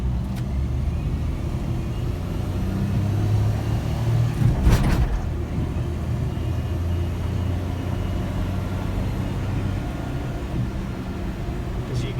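A Suzuki Carry turbo mini truck's small engine drones steadily from inside the cab while accelerating, with a faint high turbo whine and a brief whoosh midway.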